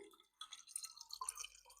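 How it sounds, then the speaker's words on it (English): Quiet trickle and splash of water being poured into a cup, a short close pour lasting under two seconds. "You guys can hear pouring water."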